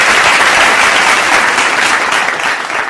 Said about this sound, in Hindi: एक बार जरा जोरदार तालियां